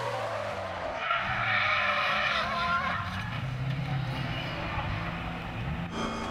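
A Holden Monaro drift car slides with sustained tire squeal over a roaring engine, the screech rising and shifting pitch for several seconds, loud and fairly close, with a sharp change near the end.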